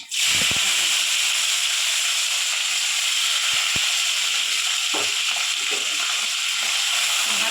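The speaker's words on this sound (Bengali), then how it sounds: "ভেজে নেব মশলাটা।" Ginger, garlic and onion spice paste fries in a pan with a loud, continuous hiss and sizzle, broken by a few sharp knocks of stirring.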